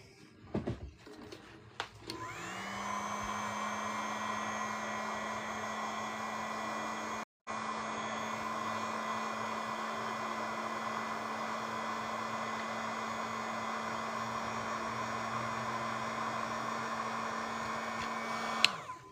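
Hair dryer blowing on a wet watercolor painting, switching on after a few clicks and running as a steady, close whine and rush of air for most of the time, with a brief cut partway.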